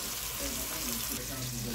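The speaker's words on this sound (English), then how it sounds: "And I'm gonna let it fry for a little while." Pumpkin frying in a pan gives a dense, continuous sizzle and crackle, close and steady throughout with no talk.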